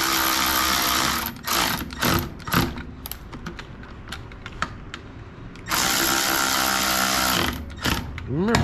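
Screws being driven tight into the plastic housing of a Husqvarna chainsaw with a loud, rasping power driver, running in long whirring bursts broken by short stops and ratcheting clicks, very close.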